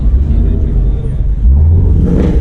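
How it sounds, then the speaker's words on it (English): A Ford GT500 rumbles at a crowded car show, its engine holding a deep, loud, steady idle that swells slightly near the end, with crowd murmur underneath. "We got the GT500 right there."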